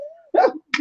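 A single short sneeze bursts out after a brief tone, followed by a quick softer sound, close and fairly loud.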